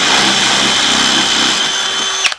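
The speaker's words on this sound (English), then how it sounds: "I'm using 3/16, so I've got my 3/16 drill bit here." A power drill spins a 3/16 drill bit to clear a hole in a small 3D-printed detail part for a 1.6-inch scale GP40 locomotive model, a loud steady whine that cuts off abruptly near the end.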